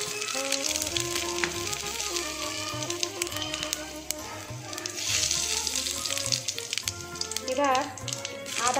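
Dried chillies, bay leaf, coriander and radhuni fry in hot oil in a kadai for a moong dal dish, making a steady close sizzle with scattered crackles while a person talks over it.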